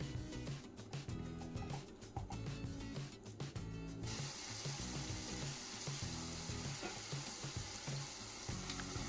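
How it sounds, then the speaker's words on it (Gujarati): Turmeric, red chilli and coriander powder fry and sizzle in hot oil while being stirred, a steady close crackle with scraping spatula clicks throughout, no talking. "હળદર લાલ મરચું અને ધાણા પાવડર ઉમેરી થોડી કોથમીર નાખીશું અને બરાબર મિક્સ કરી લઈશું"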